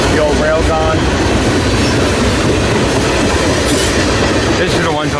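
A freight train rolls past at close range, loud and continuous, with a rumbling clickety-clack of wheels over rail joints and brief metallic wheel squeals.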